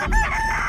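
A chicken squawks in the video game Chicken Feet: a brief, loud, strained cackle, close and alone.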